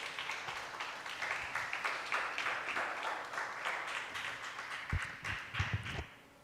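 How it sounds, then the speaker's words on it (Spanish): A church congregation applauds during a sermon, sustained clapping from many people in a large room, with a few louder low thumps near the end. "Dale un aplauso al Señor,"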